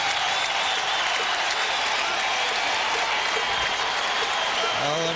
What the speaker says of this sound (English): The fans there give him a well-deserved round of applause.